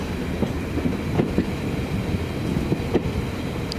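A heritage railway coach rolling slowly over a bridge, heard from inside as a steady rumble with irregular wheel clacks and faint squeals, no voices.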